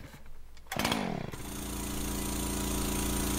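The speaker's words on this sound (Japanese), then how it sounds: "エンジンをかける。" An engine cranks and catches in the horror game SIREN, a burst of starter rattle settling into a loud, steady, droning idle that runs on alone.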